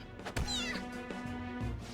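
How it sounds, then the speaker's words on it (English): A cat in the video game Persona meows loudly several times in a short, strained burst, with a steady game music tone droning underneath. "Goddamn cat!"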